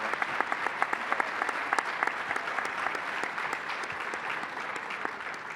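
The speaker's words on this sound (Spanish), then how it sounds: "Un aplauso para ellos, por favor." An audience at a real estate panel discussion claps for the panelists, a brisk burst of close, crisp hand claps that stays steady for several seconds.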